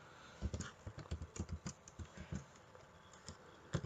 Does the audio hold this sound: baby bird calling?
no